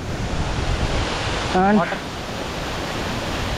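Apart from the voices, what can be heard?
Didupe waterfall rushing water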